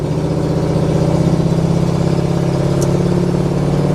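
A 1970 Ford Mustang Fastback V8 with Cherry Bomb mufflers runs steadily at a loud, close idle, a continuous low throbbing rumble with no talk over it.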